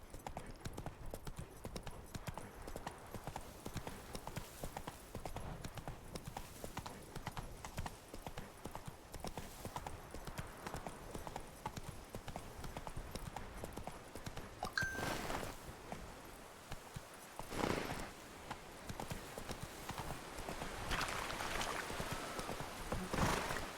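Roach the horse from The Witcher 3 clip-clops steadily across ground in the game world, hooves beating in a continuous rhythm with a brief louder rustle midway and a fuller wash of sound near the end.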